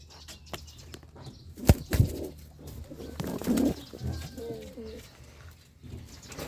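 Pet pigeons in their loft give soft, low cooing calls mixed with sudden bursts of wing flapping and scuffling, close by and intermittent against a quiet background.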